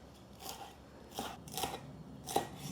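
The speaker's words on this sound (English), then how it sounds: "I'm going to just chop it up into smaller pieces" A knife chops fresh coriander into smaller pieces in three short, crisp bursts of quick cuts spaced about a second apart, quiet and close with no talking.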